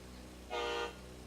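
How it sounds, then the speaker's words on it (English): A single steady car horn honk from a drift car at the start line of a qualifying run in Coober Pedy, about a third of a second long, sounds clearly over a low background hum. "And then you may go once you honk."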